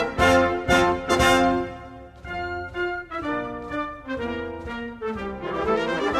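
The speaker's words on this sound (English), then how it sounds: "The national anthem is Ishi Baladi, meaning long live my country, and it sounds something like this." The UAE national anthem "Ishi Baladi" played by a full instrumental ensemble, bright, upbeat brass-led phrases with strong opening chords and a steady march rhythm, loud and clear, without voices.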